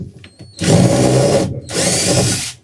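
A power drill backs a screw out of wall paneling in a caravan being built, with two loud, steady whirring bursts separated by a short pause.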